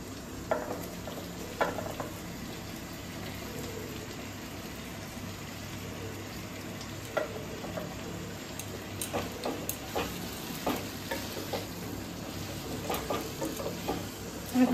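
Vegetables sizzle in a pan for an ashtamangala jhol, a soft continuous fry broken by intermittent scraping and clinking as a utensil stirs them, fairly close and without speech.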